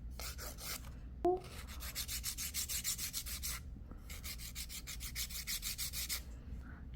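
A nail file rasps back and forth at close range, shaping a curved artificial nail extension in steady, even strokes, with a brief tap and a short pause midway before the filing resumes.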